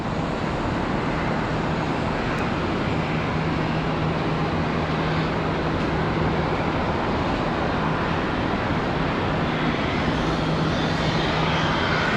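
A United Boeing 757 at Charlotte Douglas airport roars steadily with a broad jet engine rush, constant and fairly loud, with no breaks across the whole stretch.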